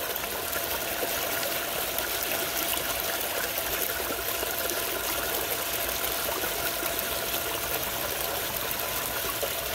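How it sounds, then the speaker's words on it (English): Water rushes steadily through a recirculating sluice with a bubbling boil action, a dense continuous wash of splashing and gurgling heard close up with no talking. "And you can see how the water flows through it."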